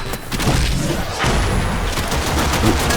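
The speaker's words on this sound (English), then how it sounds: "Let's just shoot up some people here." Rapid gunfire in the Warframe video game, dense bursts and thumps filling the whole stretch at steady loudness, with no talk over it.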